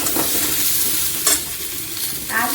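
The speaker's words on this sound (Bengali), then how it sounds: "এবার আমি আলুগুলো দিয়ে দিচ্ছি। এটা আলু পোস্ত করবো, ওটা আলু চচ্চড়ি করছি। আলুগুলোকে একটু নেড়ে ফেলে নেব।" Potatoes frying in a pan for Bengali aloo chorchori and aloo posto are stirred, a close, steady sizzle broken by a few scraping stirs.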